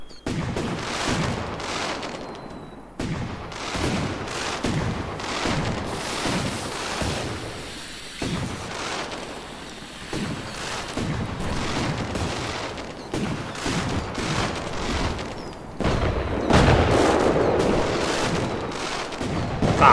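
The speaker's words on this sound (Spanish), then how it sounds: "Que merda de petarde é este." Firecrackers in the PokeWilds video game crackle and pop in a dense, rolling barrage that keeps going without pause. Sharp individual bangs stand out, and the volume swells louder toward the end.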